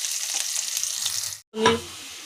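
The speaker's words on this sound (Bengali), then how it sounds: "আলু ভাজছি" Potatoes fry in a pan with a steady hissing sizzle, cut off by a brief moment of silence before a short clattering burst of movement in the pan, no voices.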